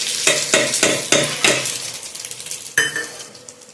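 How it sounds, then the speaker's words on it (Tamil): Hot tempering poured into curd rice bursts into a loud sizzle, followed by a run of repeated scraping stirs with a spoon against a vessel, each stroke distinct and close, then one sharp clink and fading sizzle; no talking. "தாளித்து அப்படியே நம்ம இதில் ஊற்றிடலாம்."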